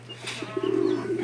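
A pigeon in Tacloban gives a soft, close cooing call that rises into a sustained low hum near the end, alone and fairly quiet.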